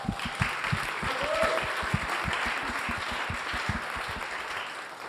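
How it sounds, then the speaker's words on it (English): Applause from a forum audience gathered for a founder-stories event, a close steady patter of many hands clapping with distinct individual claps audible, fading slightly toward the end. "Applause to all of you that came out and took the time to be a part of Elevate."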